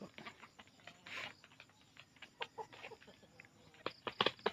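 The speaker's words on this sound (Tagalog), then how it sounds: "Yan pong isa ka manok." A chicken on a Philippine farmyard clucks in short, uneven bursts, fairly close but soft, with light patter and rustling between the calls and no talking.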